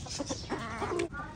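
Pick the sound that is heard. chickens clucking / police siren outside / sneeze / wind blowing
chickens clucking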